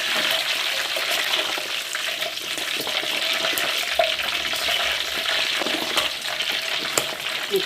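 Pork belly for lechon kawali fries in hot oil, sizzling and crackling steadily with popping spatters throughout.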